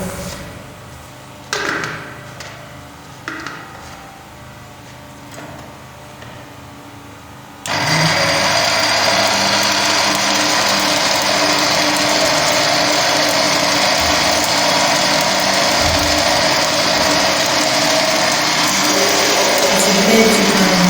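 A few quiet knocks and clatters, then a loud kitchen blender switches on at about eight seconds, blending moi moi batter, and whirs steadily and harshly until the end.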